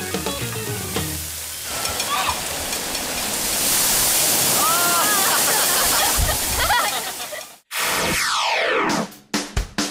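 A big tipping bucket at a water park fills and dumps its load, a loud sustained rush and splash of falling water with children's voices mixed in, then a brief break and another burst of splashing.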